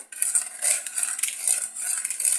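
A spoon scrapes and clinks against a small metal pot, stirring green jelly powder into water in quick, uneven rhythmic strokes, close and clear with no talk.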